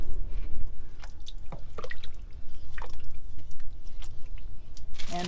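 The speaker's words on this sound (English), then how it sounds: "add 2 cups of chicken broth." Chicken broth pours and splashes into a slow cooker in wet, dripping bursts, with a few soft squelches and a clatter near the end.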